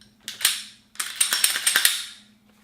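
Mechanical clicks and clacks as a Glock 43 pistol is handled for a safety check, two clusters of sharp, close metallic snaps with a brief pause between, alone with no voices.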